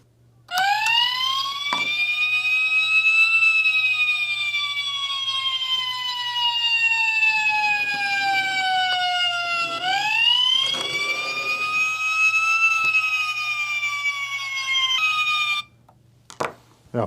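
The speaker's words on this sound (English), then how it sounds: "Now apparently you can't blow the horn while the siren's on." Electronic siren from an Agora Models FDNY Ladder 9 toy fire truck wails in steady rising and falling sweeps, loud and close, for about fifteen seconds before cutting off abruptly.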